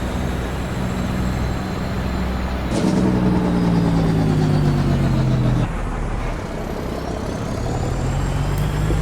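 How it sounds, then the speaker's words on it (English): A truck's engine brake in American Truck Simulator kicks in with a loud, low droning rumble whose pitch slowly falls for a few seconds, then cuts out into steady engine noise. "See, the engine brake still doesn't sit right with me. It sounds good"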